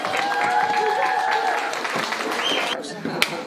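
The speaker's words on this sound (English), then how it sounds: "Round of applause." Audience applause fills an arts showcase venue, a steady wash of clapping with some voices mixed in before it thins near the end.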